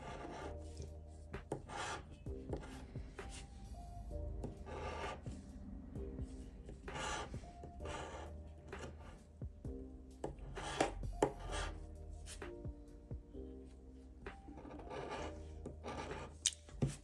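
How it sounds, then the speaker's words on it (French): A coin or fingernail rasps hard across the tough latex coating of a scratch card, producing repeated dense scraping strokes in close, steady bursts, with no talking. "Très coriace à gratter par contre."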